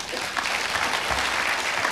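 Applause fills a church service, a dense, even patter of many hands clapping at moderate loudness for the whole stretch, with no pauses.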